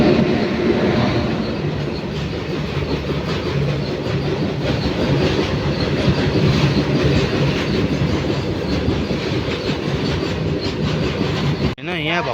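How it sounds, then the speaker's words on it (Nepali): A freight train bound for Dibrugarh rolls in with a steady, loud rumble and rhythmic clickety-clack of wagons. It carries on continuously and close by, then cuts off abruptly near the end. "अब यो ट्रेन कुन हो डिब्रुगढ जाने मालगाडी रहेछ"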